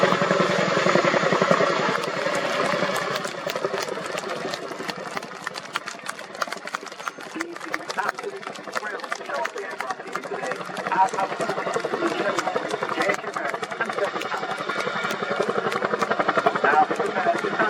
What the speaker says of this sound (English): we conclude the 2026 Chinook World Demonstration